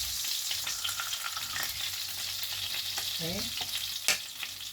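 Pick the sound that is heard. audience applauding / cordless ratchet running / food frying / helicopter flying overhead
food frying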